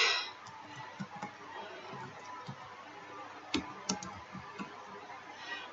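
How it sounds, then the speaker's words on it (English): Quiet, irregular tapping of keys on a keyboard, scattered clicks with brief pauses against faint background hiss. "my typing when I'm under pressure is not the best"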